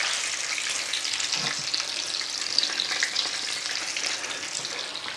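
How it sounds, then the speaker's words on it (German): Frikadellen meatballs fry in a pan with a steady, close, high sizzle and crackle that holds even for several seconds, and no one speaks over it. "Und dann gebe ich die anderen Frikadellen noch in die Pfanne."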